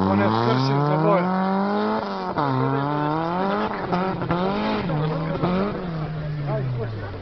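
Peugeot 106 rally car on a stage, its engine note sweeping up and down through a corner with rising and falling revs, close and loud, with excited spectators talking over it throughout.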